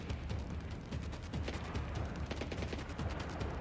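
Rapid gunfire crackles steadily throughout a firefight in the stealth shooter Splinter Cell: Blacklist, quick repeated shots mixed with mechanical clatter, kept low and continuous with no speech.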